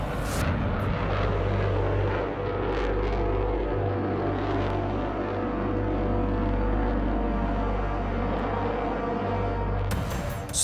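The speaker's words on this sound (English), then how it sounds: "The engines are so powerful that the MiG-29 can ascend vertically like a rocket" A MiG-29 fighter jet climbs vertically with its engines at full power, a loud continuous roar that holds steady and dense throughout with no pauses.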